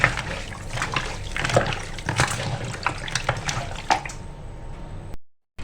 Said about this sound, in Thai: ล้างเอาข้าวออกนะครับ